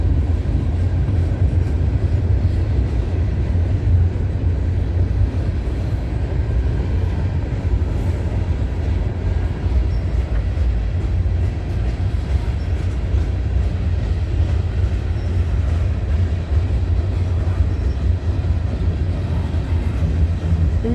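A CN freight train with gondola cars rolls past a trackside spot at night. It makes a steady, loud, continuous rumble and clatter of wheels on rails, with no break in it.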